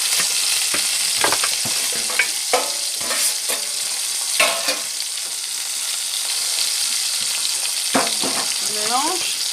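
Oxtail frying in a pan with pepper, a steady loud sizzle running throughout, punctuated by scraping stirs and utensil clinks near the end.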